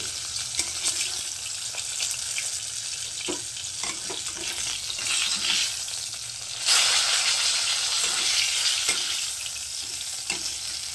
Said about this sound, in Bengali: লাল লাল করে ভেজে নেব মাছগুলো